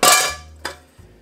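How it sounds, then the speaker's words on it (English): A metal pot rack slides into a wooden cabinet with a loud clang, ringing briefly before a second sharp knock and a faint final tap. "this little pot rack. I'm just gonna slide that in."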